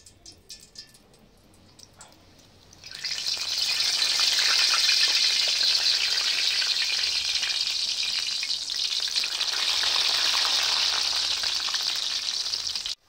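Karasev dough pressed into hot oil erupts into a loud, bright, continuous sizzle after a quieter opening, bubbling steadily close up for about ten seconds before cutting off.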